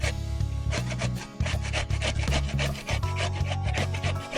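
A small onion is rubbed down against a grater in quick, close rasping strokes, about two per second, each a scraping swish repeated in a steady back-and-forth rhythm with no voices.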